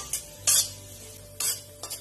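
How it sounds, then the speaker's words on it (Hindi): Gaal ladoo mixture being roasted and stirred in a large kadhai, quiet sizzling under three or four crisp, bright scraping strokes of a spatula against the pan. "हमें इस तरह इसको 15 से 20 मिनट तक कंटिन्यू सेकना होगा।"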